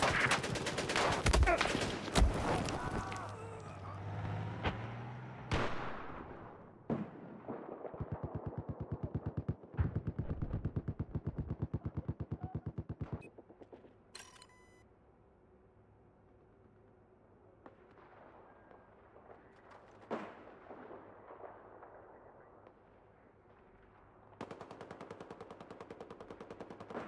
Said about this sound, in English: Enemy machine gunner.